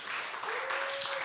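A brief burst of applause at a church Sunday worship service, many hands clapping in a dense steady patter, with a faint tone running underneath.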